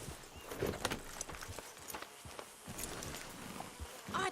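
Horse hooves clip-clop at a walk in Red Dead Redemption 2, an irregular string of hoof knocks under ambient game sound, fairly close and steady throughout.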